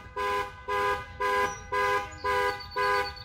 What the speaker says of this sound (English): I thought I set off the alarm of this Jeep by plugging in the speaker.